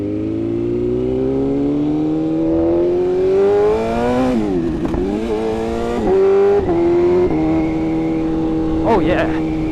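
A BMW S1000RR sport motorcycle with ABS deleted rides through Dallas traffic, its engine revving and shifting up through rising tones, loud and close, with brief drops and blips between gears.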